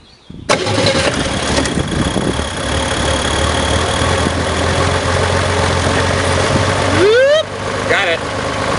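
A Chevrolet Corvair Monza engine cranks and catches, then runs loudly and steadily at close range. A belt squeal rises near the end.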